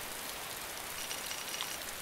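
Rain in the survival game DayZ, a soft, even patter on surfaces, distant and continuous with no voices.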